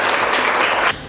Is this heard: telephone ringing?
no